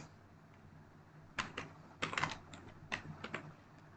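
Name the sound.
typing a Wi-Fi network name on a computer keyboard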